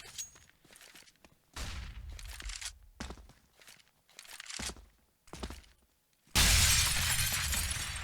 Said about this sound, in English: That nade was loud as hell.